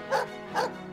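A guard dog at a military field camp barks twice in quick succession, two sharp, fairly close woofs about half a second apart, followed by quiet background.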